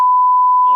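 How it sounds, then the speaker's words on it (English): A single steady censor beep plays from a podcast soundboard, a loud pure tone held for most of a second before cutting off abruptly. "That soundboard with the beep on it"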